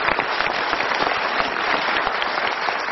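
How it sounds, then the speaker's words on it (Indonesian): A seminar audience claps together in a steady, full burst of applause, fairly loud and even throughout. "Kita berikan tepuk tangan."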